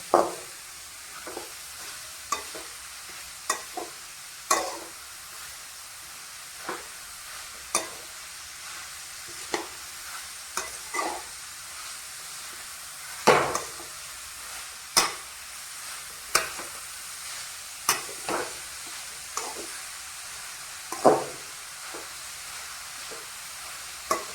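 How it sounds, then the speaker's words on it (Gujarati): Carrot halwa is stirred and roasted with a spatula in a pan, giving repeated scraping strokes over a soft, steady sizzle, close and clear with no talk. "હવે આપણે તવીથા વડે હે ને એકદમ શેકી લઉં મસ્ત કેમ કે હલાવું થોડુંક અઘરું પડે"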